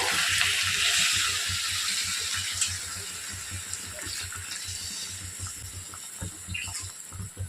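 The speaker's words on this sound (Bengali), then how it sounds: "এবার আমি জল দিয়ে দেব। এখানে আমি গরম জল ব্যবহার করছি" Hot water pours into a chicken curry cooking in a pan, giving a steady splashing, trickling stream close up with no talk.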